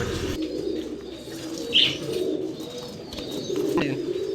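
Pigeons kept in a loft give a single soft coo over a steady low background hum, with faint chirps and no voices.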